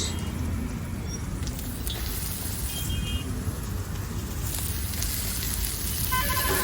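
Capsicum, onion and cabbage sizzle steadily in a pan over a gas flame, a dense continuous frying hiss with no talk.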